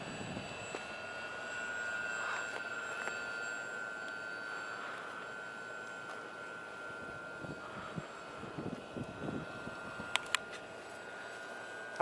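A model airplane flies on an endurance test, its engine a steady, thin drone that holds evenly throughout, moderately distant, with a few faint clicks near the end and no talking.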